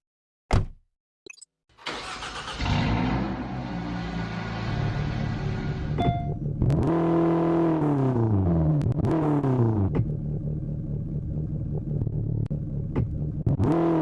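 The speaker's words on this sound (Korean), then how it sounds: "배기음이나 들어볼까?" Car engine starting after a couple of clicks, then revving repeatedly with loud exhaust rumble rising and falling in pitch, settling into a steady idle drone.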